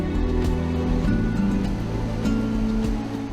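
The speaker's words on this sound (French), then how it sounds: "Les chutes Victoria constituent le plus large rideau aquatique du monde." Victoria Falls roars as a massive waterfall in a dense, unbroken rush of water, loud and steady, with a low rumbling undertone and no voices.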